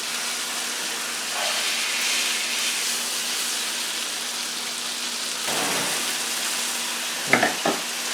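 Steak frying in a pan with butter and vegetables, a steady loud sizzle that goes on throughout, with brief clatters of utensils near the end.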